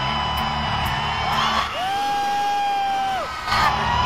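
Concert crowd at a show screams and cheers loudly, a dense roar of many voices with a rising sustained shriek standing out above it.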